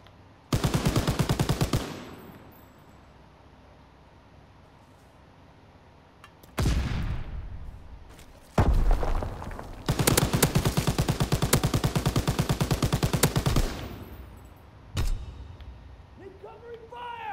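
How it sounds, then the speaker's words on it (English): Loud machine-gun bursts of rapid gunfire in several long volleys, separated by short gaps and a single sharp shot, close and dominant, with a voice shouting briefly. "Incoming fire!"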